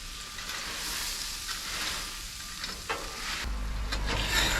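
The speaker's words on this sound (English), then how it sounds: "we're just going to simply take our spatulas and mix it up so you get some of that goodness on every little piece" Spatulas stir Chex Mix on a hot pan, giving a steady scraping and rustling of cereal pieces with faint sizzling throughout, close and continuous.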